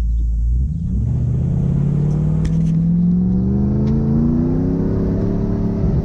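Revving engine of a Toyota Hilux with automatic transmission and manual shift control, a loud rumbling climb in pitch to about 4,000 RPM, rising smoothly and close with no talk.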